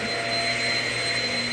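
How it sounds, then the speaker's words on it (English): A Shark Rocket self-cleaning vacuum cleaner runs steadily nearby, giving off a loud, constant motor whine with a high airy rush and no breaks. "so I can vacuum the rest of the way"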